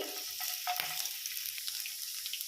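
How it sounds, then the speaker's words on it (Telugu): Cumin seeds and finely chopped garlic fry in hot oil in a home kitchen, giving a steady, moderately loud crackling sizzle with brief spits and pops, no voices. "అందుకని ఆయిల్ మంచిగా వేడి కావాలి. కొంచెం జీలకర్ర, సన్నగా చాప్ చేసుకున్న వెల్లుల్లి"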